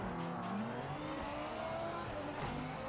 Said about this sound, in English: Sounds of the cars aren't too bad.